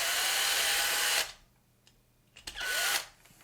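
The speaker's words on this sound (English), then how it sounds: "Let me drill them quick and I'll let you know." A power drill whines loudly in two bursts while drilling apart light die-cast model Humvees, with a brief quiet pause and small clicks between the runs.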